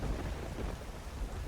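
A thunderstorm with heavy rain and a low, steady rumble of thunder rolls on without pause, dense and fairly loud throughout.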